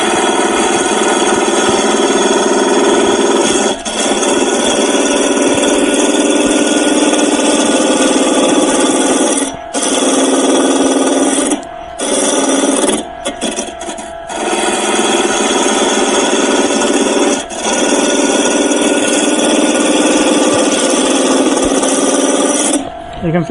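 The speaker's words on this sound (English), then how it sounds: "You can see that the shavings are coming off very much smaller because it's turning faster." A wood turning lathe spins fast while a chisel cuts wood into small shavings, giving a loud, steady scraping whir that runs almost without pause, broken by a few brief gaps where the tool lifts off.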